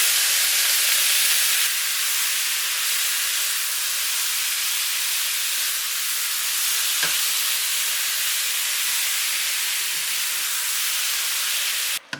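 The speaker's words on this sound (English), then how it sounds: "now we're just going to add just a little bit over 3 pounds of beef. Try to brown up the beef." Just over three pounds of beef browns in a hot pan for a slow cooker stew, giving a loud, continuous sizzling hiss with a faint clink near the end.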